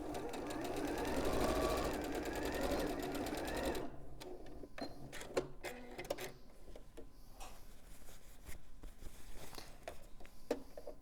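A sewing machine stitches across fabric in a fast, dense run for the first few seconds, then slows to scattered ticking and clicking strokes, with faint room noise underneath.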